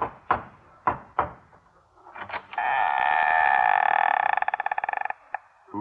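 On a 1954 radio comedy broadcast, three sharp, close knocks land on a door, followed by a long, loud buzzing tone that ends in a rapid stutter.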